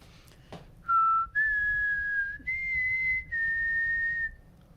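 A person whistles four clear, sustained notes in a row, rising then holding steady, close and loud against a quiet background.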